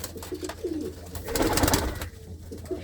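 Pigeons of good breed kept by a fancier in the Anandpur Sahib area, cooing nearby in soft rolling calls, a few overlapping coos rising through the middle with faint background noise.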